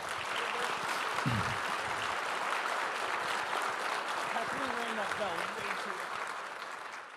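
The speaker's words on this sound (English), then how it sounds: "How about a big round of applause for David and the Canadian Club?" Audience at a Canadian Club luncheon gives sustained, dense applause that fades slightly near the end, with voices talking faintly beneath the clapping.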